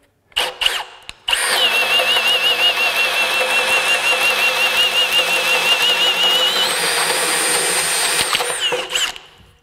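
A Milwaukee M18 FUEL 2906-20 half-inch cordless hammer drill runs on its high setting, a loud, steady high-pitched motor whine sustained for about eight seconds after a couple of short blips, then winding down.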